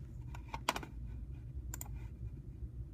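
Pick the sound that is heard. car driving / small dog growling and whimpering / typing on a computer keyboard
typing on a computer keyboard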